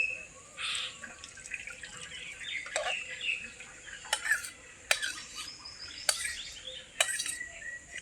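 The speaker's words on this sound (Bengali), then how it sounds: "এখন কোয়াশগুলোকে আমি জলের থেকে ছেঁকে নেব। এখন কোয়াশগুলোকে ঝুড়ির মধ্যে ঢেলে নিচ্ছি।" Boiled squash is strained out of its water into a basket, giving a wet splashing trickle broken by several sharp clattering knocks, with faint birdsong in the background.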